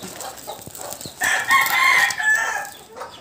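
A native chicken close by gives a loud, drawn-out cackling call over a quiet, slightly noisy background on a small poultry farm.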